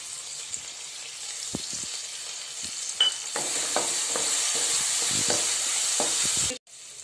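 Soaked moong dal tipped into a hot pan of oil with asafoetida and turmeric, setting off a steady bright sizzle with a few stirring clinks, close and loud, then cutting off abruptly near the end.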